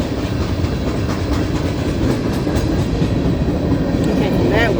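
A Union Pacific manifest freight train rolls past a crossing, its steady rumble and wheel clatter loud and continuous close by, with faint voices mixed in.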